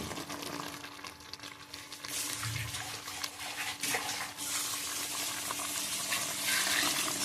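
Water pours and splashes into a hot pan of Udupi-style chicken curry, hissing and bubbling steadily, growing louder partway through with faint clinks.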